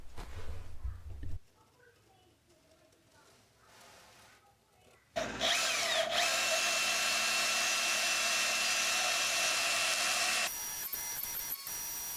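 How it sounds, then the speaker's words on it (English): A bandsaw cuts the profile of a Damascus hunting knife handle, going from a low hum to a loud, steady broadband whine after a quieter stretch, with a brief change in tone near the end. "I'll mark and cut the profile of the handle on the bandsaw, then refine the shape using my belt grinder"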